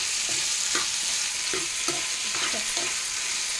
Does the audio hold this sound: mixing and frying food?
yes